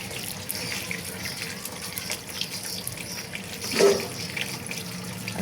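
Vegetables, likely small potatoes, rinsed under a running kitchen tap to wash off sand, a steady splashing water stream with a brief louder gush partway through.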